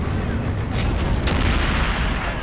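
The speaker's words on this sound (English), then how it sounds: "More AT guns are firing." Anti-tank guns fire during a battle in Men of War: Assault Squad 2, set at Dunkirk in 1940, giving a dense, continuous roar of deep rumbling booms and distant gunfire with no single clear shot standing out.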